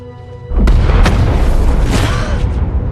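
Bomb explosion in a film, a sudden heavy boom bursting after a quiet lead-in, followed by crackling debris and a long rumbling tail.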